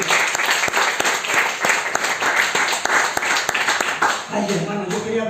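Loud, steady applause from a church congregation fills the room for several seconds, sharp claps dense throughout, before a voice briefly speaks over it near the end.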